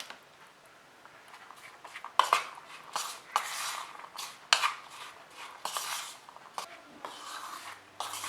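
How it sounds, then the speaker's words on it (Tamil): Tutti frutti being tossed with maida flour in a bowl for a no-oven sponge cake, giving steady scraping and rubbing with sharp clinks of a spoon against the bowl, close and fairly quiet, with no talking. "நல்லா இப்படி கலந்துக்கணும். நல்லா கோட் பண்ணணும் மைதா டூட்டி ஃப்ரூட்டியை."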